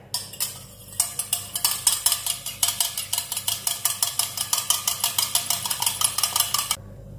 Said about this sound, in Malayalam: നന്നായിട്ട് അതങ്ങ് മിക്സ് ചെയ്യാം